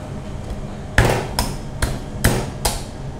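A large knife chops through a sturgeon's head on a board in five heavy, evenly spaced thwacks, close and loud, with no talk.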